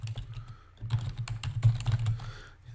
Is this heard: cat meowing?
no